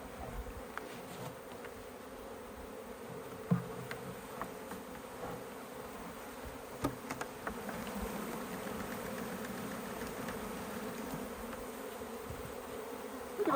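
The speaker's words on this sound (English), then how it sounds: "There's some more bees in here. Bees are like fanning a lot since I'm shaking" A swarm of honeybees hums in a bush as the branches are shaken, the dense, steady buzzing slowly swelling in loudness with a few soft knocks and rustles, no voices.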